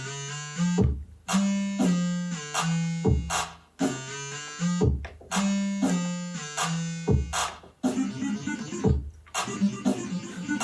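A bright synth line on a Boss RC-600 loop station with a transpose sequence effect repeats short phrases that jump between low and high pitches in octave steps, each phrase cut off by brief gaps.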